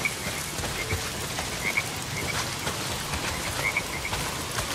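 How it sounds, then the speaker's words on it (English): Steady, dense hiss of heavy rain in the video game Days Gone, even and unbroken throughout, with repeated frog croaks chirping over it at intervals and no voices. "not if it's pissing down rain"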